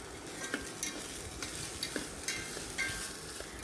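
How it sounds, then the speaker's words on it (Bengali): Chopped onions frying in oil in a pan for a masala chicken dish, a steady close sizzle broken by a few sharp scraping stirs, with no voices. "পেঁয়াজগুলোকে সামান্য লাল করে এবার আমরা ভেজে নিচ্ছি।"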